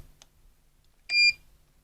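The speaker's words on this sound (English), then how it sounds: "whenever you do anything on this, it gives quite a reassuring beep." A single short electronic beep sounds from the control panel of a Klarstein Wonderwall Air Art smart infrared heater, bright and clear after near silence, preceded by a faint click.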